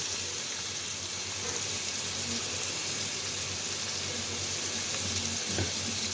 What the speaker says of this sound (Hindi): अब इसको हम अच्छे से भून लेंगे ऑयल के अंदर